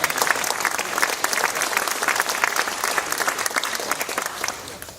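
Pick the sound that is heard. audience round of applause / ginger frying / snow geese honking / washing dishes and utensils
audience round of applause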